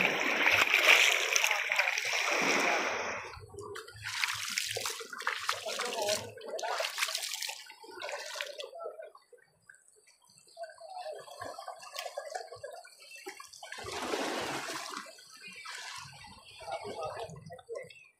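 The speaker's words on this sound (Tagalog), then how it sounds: "And I love watching the waves." Ocean waves wash and splash onto the shore in repeated surges, rising and falling over several seconds, heard close against a sandy beach.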